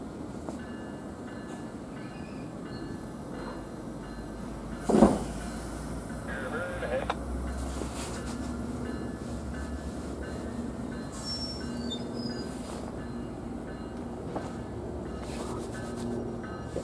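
A GO Transit train departs St. Marys station on a March day, a steady low rumble of rail cars rolling through the whole stretch with a brief clank near the middle and faint wheel squeal above.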